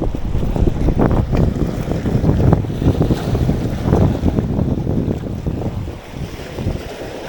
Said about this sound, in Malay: Tapi angin kuat kat sini.